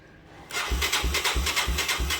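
A 1985 Yamaha YTM225DR ATV engine that sat for 30 years cranks over in a quick series of about five rhythmic turns. The starter churns loudly and close but never catches.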